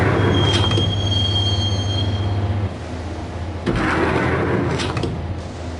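A train ride in a PS4 video game: loud, continuous rolling rumble of rail cars with a sustained high wheel squeal, then a drop in level before the rumble surges again.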